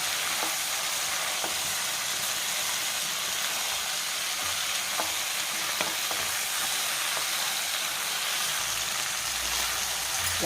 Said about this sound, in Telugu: ఇప్పుడు క్యాలీఫ్లవర్ ముక్కలు వేసుకుందాం. చక్కగా సిమ్లో పెట్టేసుకొని కూర అంతా కలిసిందాక చక్కగా కలుపుకుందాం.